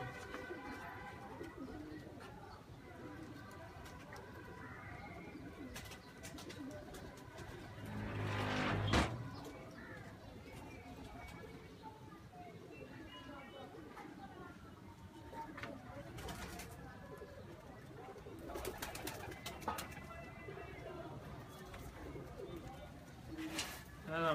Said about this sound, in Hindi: चौधरी साहब वाले कबूतरों के विचों ना जी ये निकलते हैं